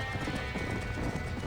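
Hooves clatter in a rapid rhythm with a horse's whinny mixed in, loud and steady over a dense background, in the video game Red Dead Redemption beside a burning barn.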